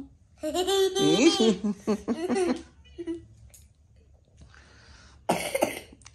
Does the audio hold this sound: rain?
no